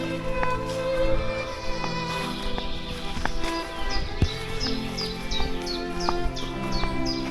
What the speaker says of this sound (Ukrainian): Співають пташки отак чудово зранку.